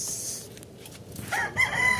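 White Texas gamefowl roosters out in the yard, with low scuffling and background noise at first, then a short, fairly close crow breaking out near the end.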